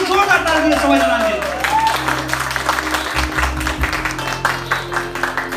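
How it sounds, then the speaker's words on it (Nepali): Applause and clapping from a crowd greet the second-place singer at a music event, a steady clatter running throughout with an announcer's voice speaking over it. "उहाँलाई पनि जोरदार ताली दिने सबैजनाले"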